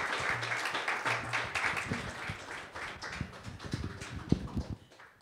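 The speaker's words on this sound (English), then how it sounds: "Let's give them a round of applause" An audience at an awards ceremony applauds, a soft, fairly distant spread of clapping that holds steady for several seconds before fading toward the end.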